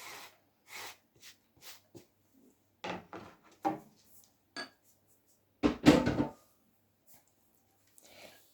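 Cheese being stirred into hot cooked tromboncino squash in a container gives scattered clinks and scrapes of a utensil against the dish, short, separate and fairly close, with a louder burst of scraping midway.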